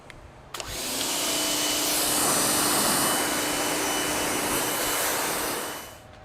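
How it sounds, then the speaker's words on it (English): A pressure washer rinses iron remover off a 2022 Ford F-150 Platinum truck, a loud, steady spray hiss that starts abruptly and runs for about five seconds before cutting off. "Let's rinse all this off then."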